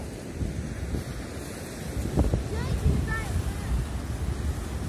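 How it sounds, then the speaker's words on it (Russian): Steady roar of strong stormy sea surf on the Turkish coast in February and wind noise buffeting the microphone, with a brief burst of voice partway through. "Волны прям какие у нас сегодня сильные."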